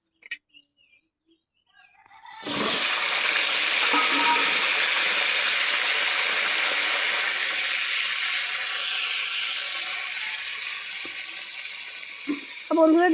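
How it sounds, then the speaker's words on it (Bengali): Eggplant dropped into hot oil left from frying potatoes, with salt and turmeric added: after a few small clicks, a loud steady sizzle starts and keeps going, slowly easing, with a clatter near the end. "আলু ভাজা হয়ে গেছে, এখন আমরা সেই তেলের ভিতরেই বেগুনটাকে ভাজে নেব।"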